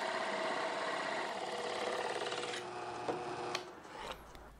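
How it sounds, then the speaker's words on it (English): Drill press turning a circular bit through a block of walnut, a steady whining motor with rasping cutting noise that eases off near the end as the bit stops. "I use this circular drill bit in my drill press"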